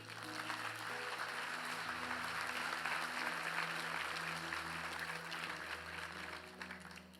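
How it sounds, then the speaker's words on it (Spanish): A church congregation applauds during a sermon, a steady, dense wash of clapping that holds loud for several seconds over a low sustained musical tone before gradually thinning out. "Un aplauso al Señor."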